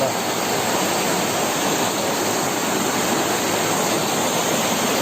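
Rainy-season waterfall, a dense, even roar of rushing water that stays loud and constant throughout, with no voices.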